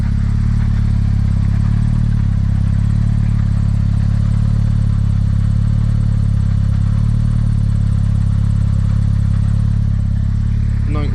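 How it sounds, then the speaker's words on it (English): Loud, steady low drone from the tailpipe of a boosted Toyota MR-S, idling close up with a constant deep hum and no revs, while a person talks over it. "let's go and see how quiet the actual exhaust is"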